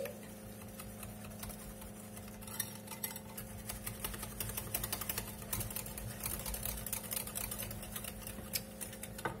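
Far Breton batter being stirred, likely with a utensil against the bowl, as a steady run of small clicking, ticking taps over a low background hum, close and moderately quiet with no voices.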